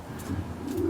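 A racing pigeon coos softly in its breeding box, giving low, close rolling calls, with a faint chirp above.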